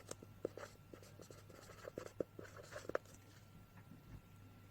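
Faint scratchy strokes of a pen writing on paper, with soft irregular taps and scrapes over a low background hum.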